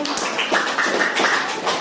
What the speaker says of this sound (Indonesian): kita beri tepuk tangan dulu untuk kelompok